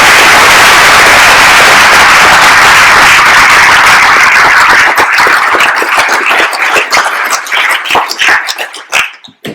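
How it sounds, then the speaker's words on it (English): Conference audience applause at the EuroVis 2014 closing session in Swansea, Wales: loud, dense clapping from a large room that thins into scattered individual claps before fading out. "And let's give a round of applause to Jean-Daniel Fekete for managing that such"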